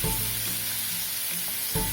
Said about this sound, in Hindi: थोड़ी देर इसके अंदर फ्राई कर लेंगे। ज़्यादा पकानी नहीं है, जस्ट हल्का सा सॉफ्ट करना है।